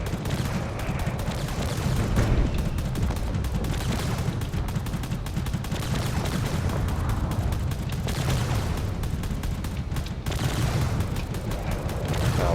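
Drones trading steady gunfire during a carrier battle in Drone Wars, with shots hitting a frigate: a continuous, dense barrage of rapid shots and thuds that runs without pause from start to finish.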